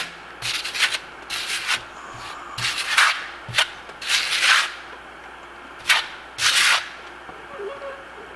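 A steel trowel sweeps Venetian plaster across a wall for a concrete look, a series of short scraping swishes in irregular bursts, close and fairly loud, with quiet gaps between strokes.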